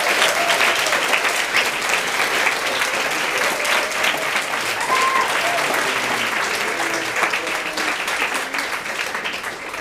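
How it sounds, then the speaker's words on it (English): Sustained applause from a large audience, steady and loud throughout, with a few faint voices and whoops mixed into the clapping. "Give a massive round of applause, Francesca."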